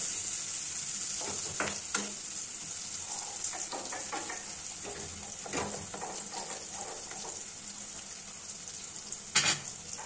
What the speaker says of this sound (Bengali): এবার আমরা তেলে দিয়ে দিচ্ছি। পেঁয়াজটা খুব ভালোভাবে ভাজতে থাকবো।